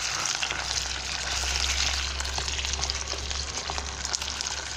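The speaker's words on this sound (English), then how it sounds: "So we allow the onion and garlic to cook for a while" Chopped onion and garlic frying in a pan, a continuous close hiss and crackle with small pops running throughout, with a low hum underneath and no one talking.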